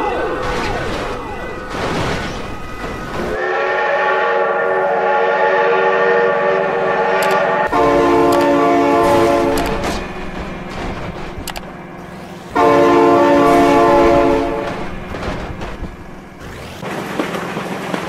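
A train rolls past close by, sounding its horn in long, loud tonal blasts that stop and start again several times over a heavy rumble of wheels and rails.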